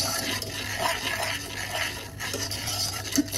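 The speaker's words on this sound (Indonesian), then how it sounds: "Aduk dulu supaya tidak bergumpal." Steady scraping and swishing of a spoon stirring pudding mixture of sugar and powder in a pot, continuous and close, with soft clinks now and then.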